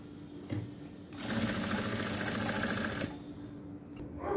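A sewing machine runs a short stitching line on sleeve fabric set with buckram, a fast, even whir of about two seconds between quiet pauses.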